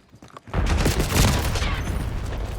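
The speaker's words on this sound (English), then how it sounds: "Concussion grenade!" A concussion grenade goes off in Black Ops 6 after a couple of faint clicks, a loud, close blast that rolls on in a long, rumbling wash of debris and noise.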